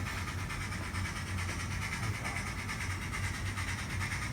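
An N scale model steam locomotive's onboard sound chip plays a steady, close rumbling run with a faint repeating beat, while people talk over it.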